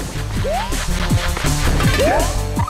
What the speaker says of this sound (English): he gets the two pylons that are closest to him and he smashes them upwards